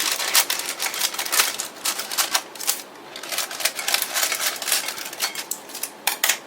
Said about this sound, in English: I'm going to take scissors and just kind of cut the parchment paper a little bit.